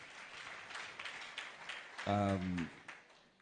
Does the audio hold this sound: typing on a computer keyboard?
no